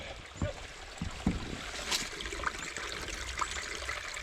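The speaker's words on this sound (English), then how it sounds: "Nice beautiful spring water." Spring water trickles and dribbles softly at a lakeside campsite in Algonquin, with a faint, continuous flow broken by small splashes and scattered knocks nearby.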